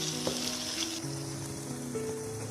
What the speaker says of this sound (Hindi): अब मैं इसको सबको मिक्स करके अच्छी तरह भून लूँगी।